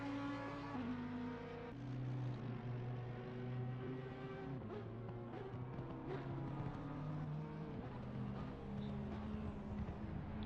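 Simulated Porsche and Audi race cars battling at Laguna Seca in Assetto Corsa Competizione, engines droning continuously with shifting pitch as one chases the other, steady and fairly loud throughout.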